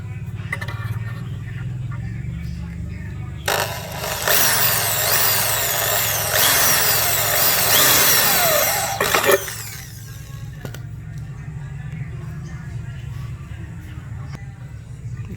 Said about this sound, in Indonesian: Kalau ada bornya agak besar sih bisa sih, tapi kita pakai bor kecil aja